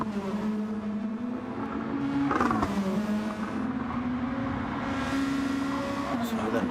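Race car engines in Gran Turismo, Nissan GR2 cars at Road Atlanta, drone steadily with shifting pitch and a surge near the middle as a car accelerates past, while a commentator talks over the engine noise.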